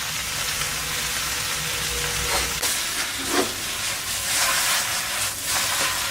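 Flat rice noodles for pad kee mao sear in a hot pan with a dense, continuous hiss and crackle, loud and close, broken by a couple of brief metallic clatters, with no speech.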